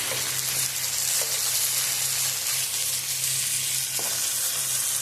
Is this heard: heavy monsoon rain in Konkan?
no